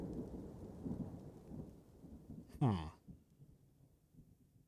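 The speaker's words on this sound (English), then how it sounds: "the thunderclap in this game just gave me that thought" A sharp thunderclap in the video game Dwarf Fortress cracks out over a steady bed of rain, loud and sudden, then rumbles away under the continuing rainfall.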